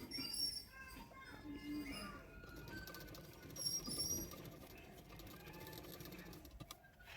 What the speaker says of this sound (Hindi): इस तरह से रख कर एक सिलाई कर दूंगी